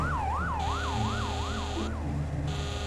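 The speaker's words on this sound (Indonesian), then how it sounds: "Sirene bro, sirene." Wailing siren in a firefighting simulator game, a steady rising-and-falling electronic wail that sweeps regularly and repeats under a constant engine-like drone, loud and close throughout.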